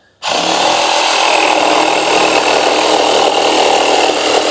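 A WORX AXIS 2-in-1 jigsaw cuts through wood, starting abruptly and running as a loud, steady, buzzing saw drone throughout, close up with no talking.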